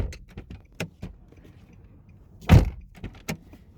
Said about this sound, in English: I'm going to open and close the door 2 times